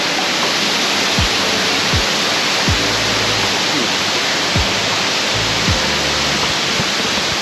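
Heavy water flowing steadily in Chiang Rai, Thailand, forming a loud, constant rushing roar like a waterfall, with a few low knocks beneath it.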